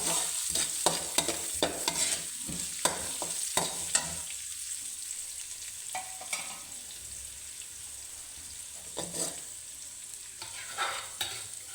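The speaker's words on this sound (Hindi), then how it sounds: "इस प्याज को भूनेंगे।" Onions sizzle and fry in hot fat, with a bright steady hiss and intermittent scraping stirs from a spatula, close up and without voices.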